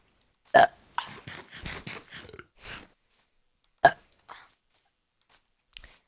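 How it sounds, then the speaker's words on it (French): A person burps loudly twice, a sharp belch near the start and another a few seconds later, with a few scattered shorter sounds between and a faint final burp, up close. "Arrête de roter, c'est chiant."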